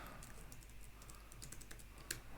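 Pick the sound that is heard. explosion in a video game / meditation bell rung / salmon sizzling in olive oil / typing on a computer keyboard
typing on a computer keyboard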